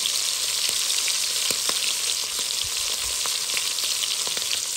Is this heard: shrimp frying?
yes